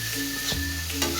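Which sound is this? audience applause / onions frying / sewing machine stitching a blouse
onions frying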